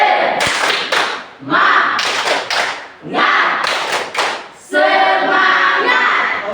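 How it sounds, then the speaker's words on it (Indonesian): A class of students in a university mathematics lesson performs a rhythmic spirit clap. Loud bursts of unison clapping and thumping come in patterned groups, mixed with shouted voices and brief pauses between phrases. "Tepuk semangat."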